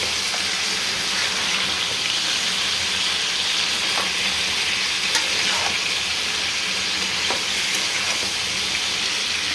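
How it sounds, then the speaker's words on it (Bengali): Steady, loud sizzling of chicken frying in a pan, with a constant hiss and occasional crackles and pops throughout. "এখন মাংসটা আমি ভালো করে আগে ভেজে নিচ্ছি।"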